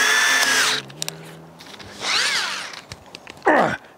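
A power drill fitted with a 1/2-inch shank bit for a portable hot tub setup runs in three loud bursts, each whining up and winding down, with short quiet gaps and clicks between.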